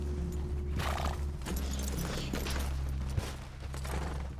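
Horses in the Western video game Red Dead Redemption 2 plod along with steady clip-clopping hooves and creaking tack over a low, continuous ambient bed.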